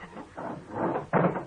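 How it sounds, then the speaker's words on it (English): Radio-drama effect of a door being barricaded: muffled, heavy thuds and scraping bumps of furniture pushed against it, ending in one louder knock, heard from behind the door with no voices. "Barricading the door."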